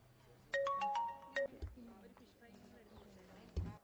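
A short electronic phone ringtone plays a quick beeping melody nearby, followed by quiet background noise and a couple of soft thumps.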